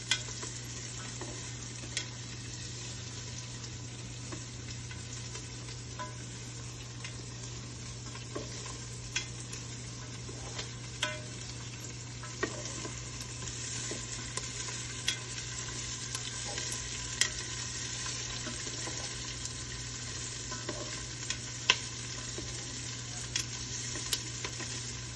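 Chicken biryani fries quietly in a pot under a low, steady sizzle and hum, with sparse light clicks and taps from occasional stirring spread across the long, faint stretch.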